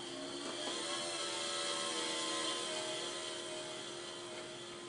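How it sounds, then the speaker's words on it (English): A simulated Spitfire model plane engine in a radio-control flight simulator drones steadily at constant pitch, a bright buzzing hum that swells slightly and fades, with no talk. "flying the Spitfire around in a circle"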